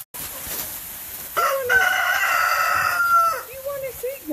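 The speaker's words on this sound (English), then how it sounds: "I guess I'm going to let my chickens out today." Backyard chickens on a freezing cold day, with a rooster crowing loudly and nearby hens clucking in short bursts close by.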